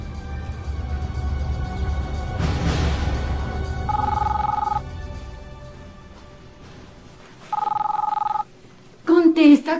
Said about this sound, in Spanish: Contesta, Carlita.